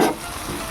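Drumstick leaves, potato and chickpeas stir-frying in a pan, a brief steady sizzle with a louder burst at the start and no talk.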